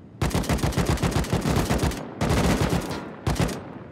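Rapid automatic gunfire in the survival game Rust, two long bursts of steady, evenly spaced loud shots followed by a short third burst, with no talk over it.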